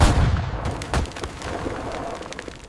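Gunfire and artillery-like booms in a Normandy 1944 war drama, a spray of sharp cracks and a heavy thud over a loud, dense battle din.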